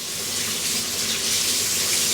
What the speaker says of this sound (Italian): prenderemo un bicchiere d'acqua con dell'acqua che sia tiepida, non bollente